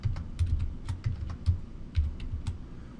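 Fingers type on a computer keyboard in a short run of soft, fairly even clicks and taps, close by and quiet, with no talking.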